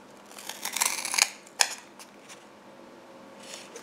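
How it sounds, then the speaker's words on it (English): Scissors snip through material while a kumihimo disc is cut out, giving a close, quiet run of crisp cuts followed by a single sharper snip and then near silence. "Then go ahead and cut the sides."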